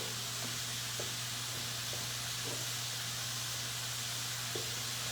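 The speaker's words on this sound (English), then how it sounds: "Everything's sauteing beautifully." Shepherd's pie filling sautés in bacon fat in a pan: a steady, even sizzle and hiss with a low hum beneath and a few faint taps of stirring.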